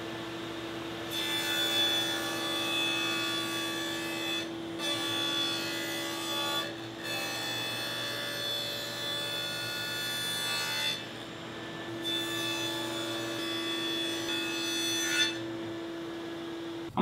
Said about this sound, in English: I'm going to use a stack dado set at the table saw.